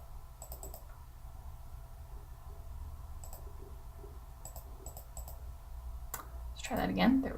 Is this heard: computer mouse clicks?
yes